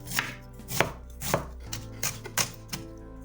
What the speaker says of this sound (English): we'll take an onion and chop it into small pieces